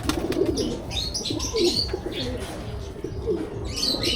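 Several army pigeons in a pigeon loft give soft, repeated low coos over a continuous background of bird murmuring and light chirps, fairly close and steady throughout.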